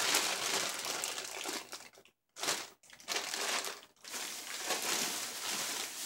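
A bag of TJ Farms frozen crinkle cut fries is handled, giving close, loud plastic crinkling in rustling bursts with a couple of short pauses.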